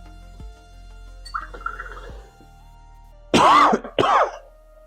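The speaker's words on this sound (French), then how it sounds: "Et ce chaud et j'ai envie de tousser" Two sharp coughs close together near the end, loud and close, after a quiet stretch with faint clicks and a soft throaty sound.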